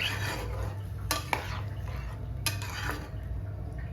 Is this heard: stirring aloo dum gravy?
yes